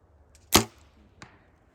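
An arrow shot on an outdoor archery course in Beavers Bend State Park hits its target with a single sharp, close thwack, and a much fainter tap follows about half a second later.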